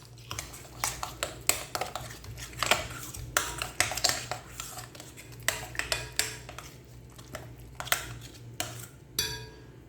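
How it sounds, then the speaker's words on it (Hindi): Fish fry batter with lemon juice is mixed in a metal bowl, making repeated close clinks and scrapes of a utensil against the bowl in an uneven rhythm, with no talk. "अच्छे तरीके से इस बैटर को मिक्स कर देंगे।"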